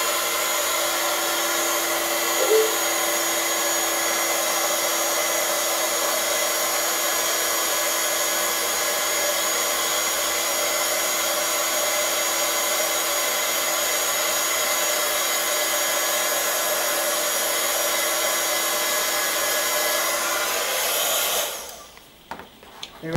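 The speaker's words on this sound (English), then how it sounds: "keep the heat gun moving around because it will singe the paper" A heat gun embossing paper for card making blows a loud, steady whooshing roar for about twenty seconds, then cuts off near the end, with no talking over it.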